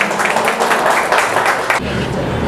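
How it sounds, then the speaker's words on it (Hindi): Members of a gym audience applaud at an appreciation certificate ceremony, with loud, dense clapping that thins and drops off abruptly near the end. "ज़ोरदार तालियां इनके लिए भी"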